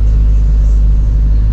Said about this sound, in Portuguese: Tô dando uma aceleradinha aqui.